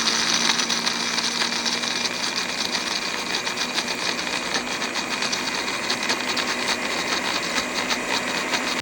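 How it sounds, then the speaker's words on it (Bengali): Pistachios being whizzed in a blender with a little water, a loud, steady motorized whir with a constant pitch that runs unbroken for the whole stretch and cuts off abruptly at the end. "আমি হালকা পেস্তা বাদাম একটু পানি দিয়ে ব্লেন্ডার করবার লাগে"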